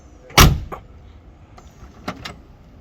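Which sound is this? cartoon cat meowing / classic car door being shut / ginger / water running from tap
classic car door being shut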